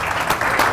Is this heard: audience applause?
yes